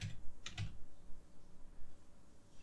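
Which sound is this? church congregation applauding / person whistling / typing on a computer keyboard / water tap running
typing on a computer keyboard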